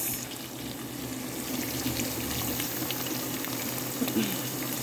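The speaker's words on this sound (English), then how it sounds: "So we're just frying these up." Chicken frying in a pot for curry, with a steady, close, broadband sizzle that holds level throughout and has a slight bubbling texture and no talk.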